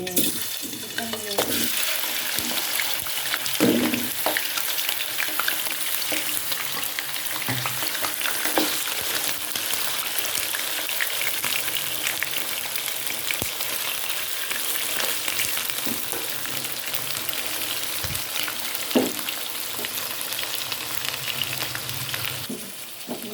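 About 1 kg of chicken frying in a pan for shahi korma, a loud steady sizzle running throughout with scattered stirring clatter and scraping, no voices.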